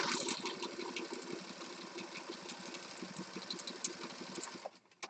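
Sewing machine stitching around a junk journal piece, a fast steady mechanical whir with rapid needle ticks, close and even before stopping near the end.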